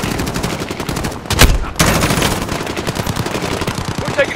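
Automatic gunfire from a Call of Duty Modern Warfare embassy assault, dense rapid bursts rattling continuously with a sharp louder blast near the middle, no pause throughout.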